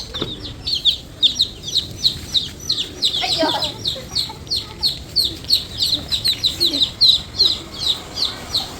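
Chicken clucking in a rapid, steady series of short calls, close and fairly loud, with scattered chirps mixed in.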